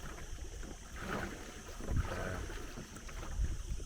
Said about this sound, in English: I've had to drop the sails on motoring because in the lee of the island there's no wind